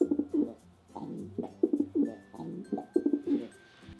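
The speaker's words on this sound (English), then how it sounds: "Next, we have my 2 homing pigeons." Two homing pigeons kept as pets coo in repeated soft, throaty bursts with short pauses between calls, close by, with a faint high tone in the background.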